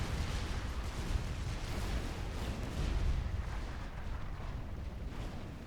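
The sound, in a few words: Fatboy units firing in video game Supreme Commander 2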